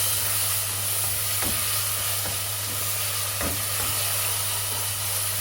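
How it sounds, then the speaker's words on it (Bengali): Ginger and garlic paste frying in a pan while a chicken curry is cooked, a steady close sizzle and hiss running throughout, with a few faint stirring scrapes and no voices. "একটু ভাজা ভাজা হওয়ার পর পরই এখানে একটু পানিও দিয়ে দিব"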